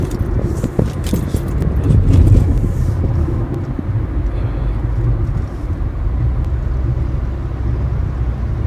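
A Mazda RX7 FD drives along with a steady, loud low engine and road rumble, heard close from inside the car, with a few faint rattles near the start.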